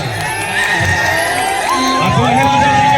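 A wedding stage show audience bursts into loud applause mixed with cheering and whoops, a dense, continuous crowd roar close by, with a voice calling out over it.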